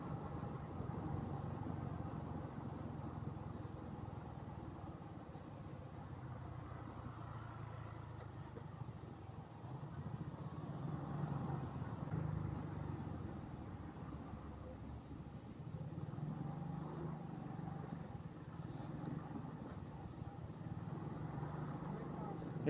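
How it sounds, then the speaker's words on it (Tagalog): Motorcycle ride through traffic near a school at dismissal time, with a low, continuous engine hum and passing vehicles held at a steady, faint level throughout. "labasan nga ng estudyante kaya traffic mga paps"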